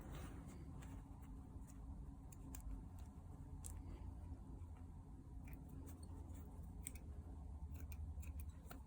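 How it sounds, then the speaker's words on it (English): Scissors snip loose threads on a cloth face mask, a series of small crisp clicks and snips scattered over steady low room hum, close and quiet with no speech. "So go ahead and trim your loose threads."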